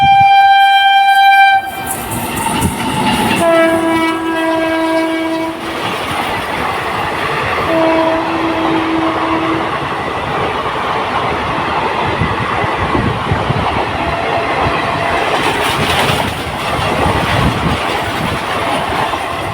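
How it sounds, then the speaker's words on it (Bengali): A train nears and passes, opening with a loud two-tone horn blast followed by shorter horn sounds, then a long, heavy rumble of wheels and carriages with clattering and faint squeals. "আর এদিকে ট্রেনটা আসছে"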